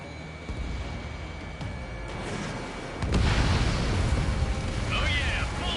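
An enemy bomber explodes in the combat flight game Ace Combat 7, a sudden loud roaring burst that swells and rumbles on for several seconds over steady engine and cockpit noise.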